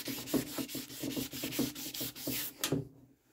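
Car panel edges wet-sanded by hand, a quick rhythmic series of short scrubbing strokes, close and steady, ending in quiet.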